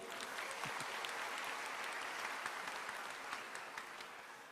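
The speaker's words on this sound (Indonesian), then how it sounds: "Tepuk tangan sekali lagi." Steady, dense applause from a large audience at a university graduation ceremony, a continuous even wash of clapping heard from some distance with no voices over it.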